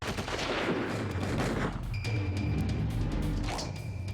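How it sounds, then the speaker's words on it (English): M16 rifles fire in a combat zone on a hill at Dak To: a dense fusillade of overlapping shots and rapid bursts, close and loud, with some booms mixed in. "I started firing my M16."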